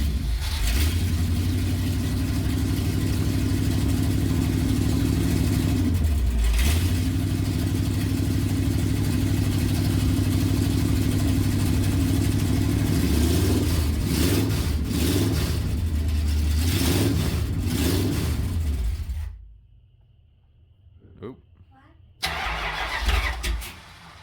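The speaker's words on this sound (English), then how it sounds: "We set that idle up a little bit" A Mopar big block 440 V8 runs close by with a loud, steady rumbling idle, rises in a few revs, then cuts out to near silence before a short burst of noise returns at the end.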